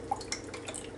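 Teriyaki sauce is poured from a container into a bowl in a home kitchen, giving a soft run of faint wet drips and splashes close by, with no talking.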